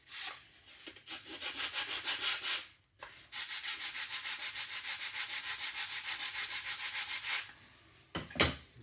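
Wooden fuselage decking of a Flair D7 model aircraft being sanded by hand: two runs of brisk, even back-and-forth rubbing strokes, close and clear, with a pause between and a light knock at the end.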